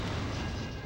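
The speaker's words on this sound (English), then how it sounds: "Those explosions are so fucking loud" Explosions in a belt scroller video game burst out as a loud, dense booming blast that carries through a single second.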